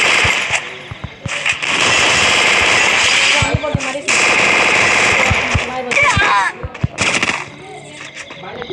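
Rapid automatic gunfire from the Free Fire video game, dense bursts of loud shots with brief pauses, mixed with game effects and someone talking over the action.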